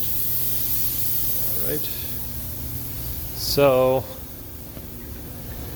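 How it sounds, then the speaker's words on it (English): Coolant sprays from a hose onto a V10 machine for a short burst of hissing during machine cleanup, with a person talking briefly beforehand. "we're going to spray the machine down with coolant"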